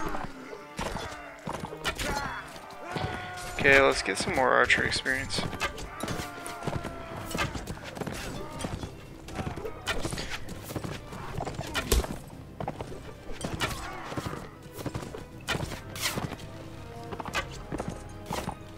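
Horse hooves clop rhythmically in the medieval combat game Mount and Blade Warband, a busy stream of hoofbeats mixed with game effects, while someone talks over them now and then.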